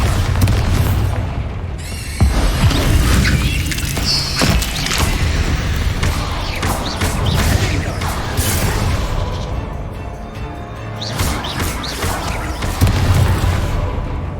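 Explosive booms from spells cast in the Hogwarts Legacy video game, including the Bombarda blast, loud and continuous with crashing and rumbling impacts and mechanical clatter over a dense game soundscape.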